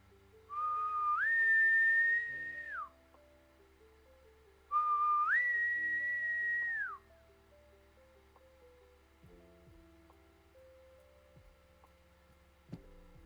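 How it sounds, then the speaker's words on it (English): A dog recall whistle sounds twice, each a sustained two-second rising and steady blast with a clear pitch, separated by a pause, over a quiet background with faint ticking and low hum. "That's his recall whistle."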